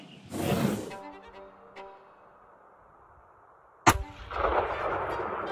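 During a bear hunt, a rifle shot rings out as a single sharp, loud crack in the middle, followed by a rolling echo and wind-like rustle; a burst of noise opens the clip before a quiet stretch.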